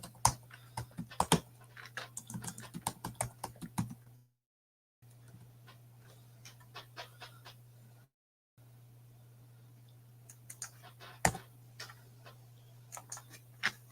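Keys clatter on a computer keyboard in quick irregular bursts of clicks, with a steady low hum underneath and two short drops to silence.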